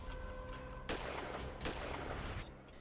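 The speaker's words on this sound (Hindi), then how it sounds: "तस्वीरों में आप देख सकते हैं कि अचानक से फायरिंग की आवाज आने लगती है।" Gunfire aimed at a political convoy's container in Wazirabad, Punjab: a sharp loud crack near 0.9 s, another burst around 1.6 s and a further report near 2.5 s over steady crowd and traffic noise.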